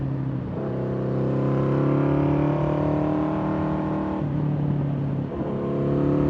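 Motorcycle with a six-speed chain-drive gearbox held in second gear along the winding US 421 "The Snake" near Bristol, Tennessee, its engine droning steadily and close, with brief dips in pitch as the throttle eases.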